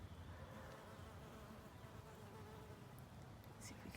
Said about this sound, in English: there's some honeybees on. Not sure if they're, yeah, they are actually getting the nectar from those little blue flowers.